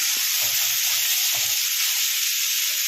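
Leftover rice fries in a hot pan with a dense, continuous loud sizzle and hiss, broken by a few low thumps and scrapes from stirring, close by with nobody speaking.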